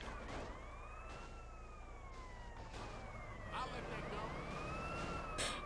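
Police siren in GTA San Andreas Definitive Edition, a sweeping wail that rises and falls continuously behind game sounds.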